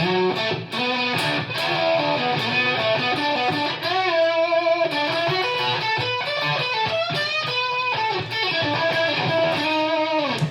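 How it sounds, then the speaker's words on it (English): An electric guitar runs through a Fender Mustang GTX100 modelling amp with Fender fuzz into a 70s British JTM-style amp and large hall reverb. It plays loud, thick, distorted chords and sustained notes for about ten seconds without any voice. "we got Fender's proprietary fuzz pedal going into a 70s British amp, so maybe like a JTM type thing"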